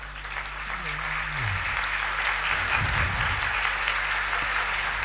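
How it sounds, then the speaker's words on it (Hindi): An audience at a spiritual gathering claps in welcome, a dense steady wash of applause from many hands that carries on for several seconds, with a low voice and a brief hum beneath it. "अरुण जी के स्वागत में ताली मारें"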